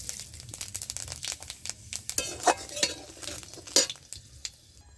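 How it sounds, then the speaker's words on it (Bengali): Dried red chilli and panch phoron spices spluttering in hot oil in a kadai, a crackling sizzle broken by sharp pops and stirring clatter, no voices. "ওই কড়ার মধ্যে আমি ফোড়নে দিচ্ছি একটা শুকনো লঙ্কা"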